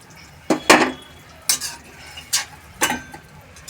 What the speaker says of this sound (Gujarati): હવે આપણે એમાં આંબલીનું પાણી નાખીશું